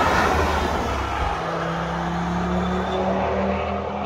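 An Audi S3 driving past on a race track, a steady engine drone with faint tonal whine holding across the whole pass, moderately loud and unaccompanied by voices.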